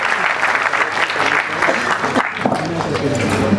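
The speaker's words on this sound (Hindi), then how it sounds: "तो एक बार जोरदार तालियां हो जाए" Audience at a live conversation event with a special guest breaking into steady, dense applause, with speech running over the clapping.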